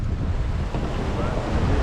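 Choppy, rough water slaps steadily against a fishing boat while strong wind buffets the microphone, a continuous loud roar of surf and gusts with no speech.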